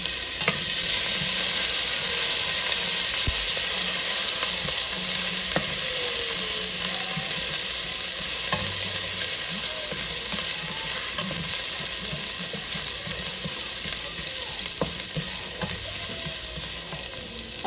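Ginger sizzles steadily in a hot pan while being stirred, a continuous, fairly close frying hiss with occasional scrapes and clinks of the utensil, and no talking.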